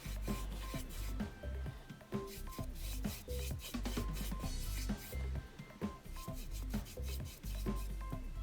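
Finish is rubbed by hand into a wood surface, making soft, repeated scrubbing and rubbing strokes in an uneven rhythm, close and quiet with no speech.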